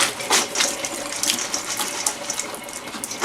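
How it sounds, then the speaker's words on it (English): Boiled edamame water pours out of a pot into a small kitchen strainer, a steady, fairly loud splashing gush of water that runs unbroken for a few seconds with no talk. "Now we're just going to drain it in our little drainer thing right here."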